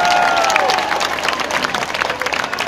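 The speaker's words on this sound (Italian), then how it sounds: "Un applauso forte per Bruno ed Enzo Petrachi." Warm audience applause at the 4th Bruno Petrachi memorial event in Lecce, a dense steady wash of many hands clapping with some crowd cheering, full and close throughout.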